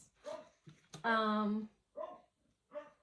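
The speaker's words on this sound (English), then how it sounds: "my dog is out the front and you will hear barking" A dog barks and yelps in short bursts, with one longer drawn-out bark in the middle, fairly quiet and somewhat distant.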